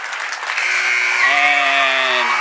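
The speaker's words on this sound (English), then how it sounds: "Standing applause here from the Raider fans and from the Boston Latin Academy fans" A crowd of high school girls' basketball fans claps steadily and loudly in a gym, with a sustained buzzer-like tone joining partway through.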